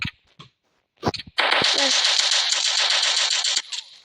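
Automatic gunfire in the shooter video game Kubum: a sustained, rapid rattling burst of shots lasting over two seconds, preceded by a few single clicks and shots, loud and close.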